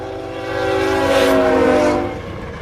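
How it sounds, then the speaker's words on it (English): A southbound maintenance-of-way train sounds its horn in a long, sustained multi-tone blast that swells and fades over about two seconds, carrying across open country with faint rail rumble beneath. "A maintenance of way train heads south on Easter Sunday."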